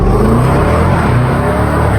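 A Range Rover Sport SVR's engine roars steadily while driving, heard from inside as a loud, dense rumble with low exhaust drone and a slight rise in revs, and no one speaking.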